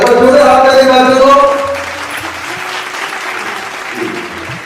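A crowd at a Women's Day event in Purulia applauds a trophy winner, with a voice heard over the opening moment, then a softer, steady patter of clapping continuing to the end.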